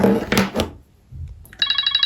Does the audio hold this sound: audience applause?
no